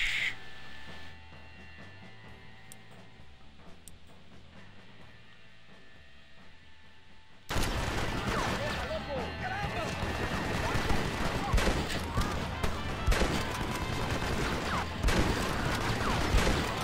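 Gunfire in the Red Dead Redemption video game: a quiet stretch, then from about halfway a dense, loud run of repeated shots and clatter that carries on to the end.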